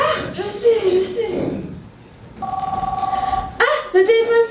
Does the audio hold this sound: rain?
no